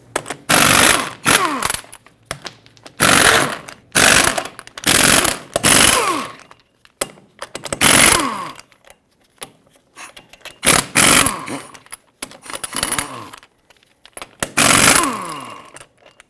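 An impact tool rattles in repeated loud, close bursts of about a second each with short pauses between, removing 22mm lug nuts from the wheel of a 2007-2014 Chevrolet Silverado 2500 HD.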